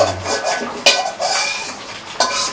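Puffed rice rattles and scrapes continuously in a pan as it is stirred and fried in soybean oil, with a few louder clanks.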